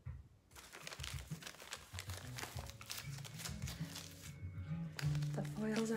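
Hair colouring foils crinkle and rustle in quick, close bursts during a blonding session in a salon, with talk and other faint handling noises mixed in.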